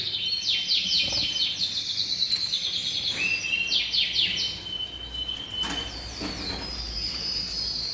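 Several Yorkshire canaries in an aviary chirp and trill rapidly in bright, overlapping bursts, with a constant background hum, busy and fairly close.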